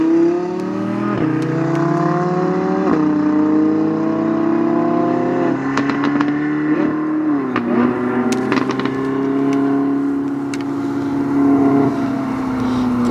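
An Audi R8 supercar on the Curborough sprint course revs hard through the gears, with rising engine tones, brief dips at each shift and a sustained loud howl heard from nearby, without speech.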